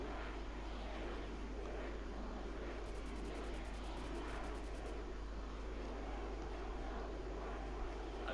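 Aircraft in the game Arma 3 roaring overhead on a strafing run over a city, a steady, loud engine drone filling the whole stretch with no break.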